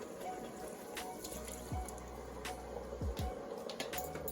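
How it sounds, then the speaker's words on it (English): Liquid pours and trickles steadily into a pressure cooker pot over a corned beef brisket, with a few soft splashes and gurgles, close by and fairly quiet. "We want to pour enough that's going to cover the meat."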